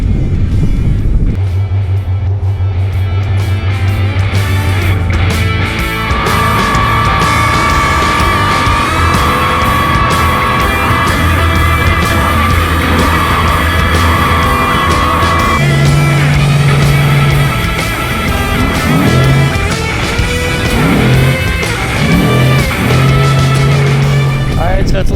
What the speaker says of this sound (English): we just went out for a little test run right now just to kind of get the truck all working